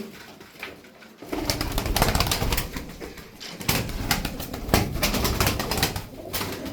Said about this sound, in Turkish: Sonra yine burada bir takım kuşumuz var.